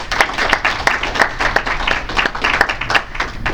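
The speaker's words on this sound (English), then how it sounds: "Let's please give a round of applause." A seated audience at a CyberDef Dojo session gives a brief, steady round of applause, close and fairly loud, with dense clapping throughout and no talking.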